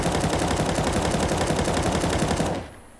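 Sustained full-auto fire from an M4A4 rifle in the video game CS2, a loud, even stream of rapid shots for about two and a half seconds, then cut off abruptly.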